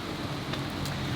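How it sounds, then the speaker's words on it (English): Rain falls steadily outside a garage, a dense even hiss of drops on surfaces with a few faint brighter spatters, no voices. "it's now raining again"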